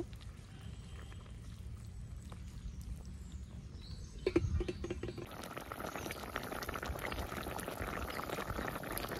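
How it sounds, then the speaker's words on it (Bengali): A Bengali fish curry with radish simmers in a pan, giving a continuous close bubbling and sizzling with one brief clatter midway. No one speaks. "মাছগুলোকে এর সাথেই একটু জাল হতে দেব।"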